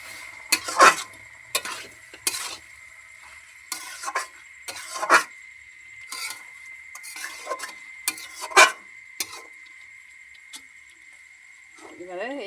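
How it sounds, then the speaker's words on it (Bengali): Food is stirred in a pan after salt is added, giving close, intermittent scraping and clinking strokes at an uneven pace over a steady background hum, with a voice briefly at the end. "এইবারে ওটা নাড়বো, নেড়ে চাপা দিব।"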